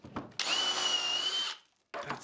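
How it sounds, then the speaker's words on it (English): A power drill bores dowel holes through a Dowelmax dowel jig in wood, a loud, close, high whining burst lasting about a second, preceded and followed by short rattling clicks and brief gaps of quiet. "you need to keep backing the drill out to clear the chips"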